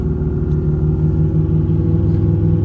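A vehicle fitted with Bogger mud tires rolling along a fairly smooth road, producing a constant low droning hum and rumble with a faint pulsing rhythm, heard from inside the cabin with no talking.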